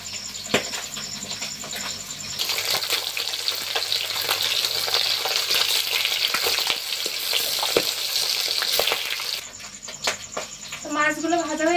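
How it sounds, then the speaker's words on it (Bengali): Kan magur catfish from a river, about 3 kg, frying in hot oil with a loud, dense sizzle and steady spattering pops that swell for several seconds, then ease. Voices talk around the frying. "মাছটা লবণ হলুদ মাখানোর সময় একটু তেল দিয়েছিলাম, তো একটু কম ফুটছে কিন্তু"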